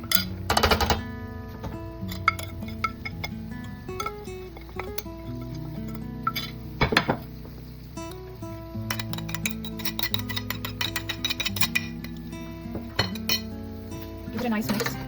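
Spoon stirring spice powders into stuffed baby eggplants in a pan, with repeated metallic clinks and scrapes against the cookware in an irregular rhythm, close up.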